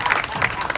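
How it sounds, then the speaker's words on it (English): A comedy-club audience at a Bridgton, Maine show claps in a brief burst of applause, dense and even, filling the room. "Clap it up if you live somewhere else."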